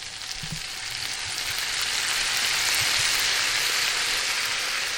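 Shallots frying in a pan with wine added: a close, loud, continuous sizzle that swells slightly as the liquid hits the hot pan, with a few faint utensil taps.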